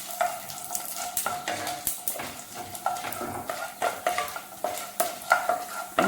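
Urad dal and chana dal frying in a pan while a spoon stirs them, giving a soft steady sizzle with regular scraping strokes and light taps against the metal.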